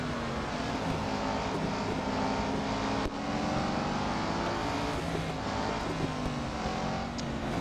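Racing car engine in the Real Racing 3 mobile game, a steady sustained drone with layered harmonic tones at constant volume, briefly dipping once midway, heard alone without talk.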